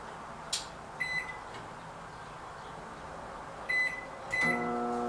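Low steady hum of a running microwave, with a few short clicks and beeps, a door-like clunk, and a tone near the end.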